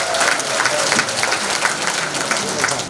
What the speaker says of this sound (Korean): 여러분 입장 박수 부탁드립니다